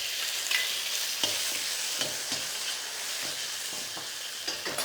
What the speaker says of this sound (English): I'm going to take a little bit of that garlic oil. It's on a low heat here. Start to cook your mushrooms.